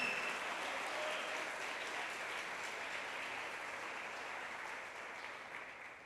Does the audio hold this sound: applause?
yes